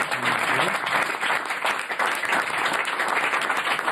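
An audience applauds a make-up artist, a steady, full burst of many hands clapping that continues evenly throughout, with a brief voice audible at the very start.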